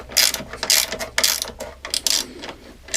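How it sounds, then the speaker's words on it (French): Ratchet wrench tightening the three small bolts on a Peugeot 205 suspension strut, a series of rapid clicking bursts in short repeated strokes, close and clear with no talking. "Donc là je peux me permettre de revisser la jambe de force pour arriver en butée."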